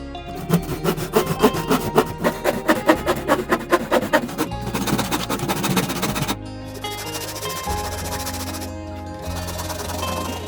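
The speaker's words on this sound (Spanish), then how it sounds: "Para cortar la madera voy a utilizar un serrucho" A handsaw rasps steadily through the wood of a plastic crate in quick back-and-forth strokes, loud and close, with the rhythm shifting and pausing between bursts.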